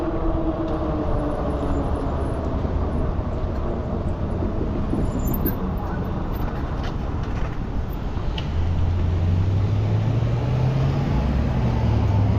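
Sprinter commuter train running on the rail line between Oceanside and Escondido, a steady close rumble of wheels and motor throughout, with a low rising drone near the end.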